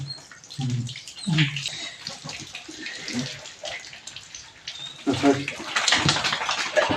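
Hot water splashes and pours into a vessel for a Sankranti festival bath in a village, a rushing, uneven stream rising and falling, with people talking close by.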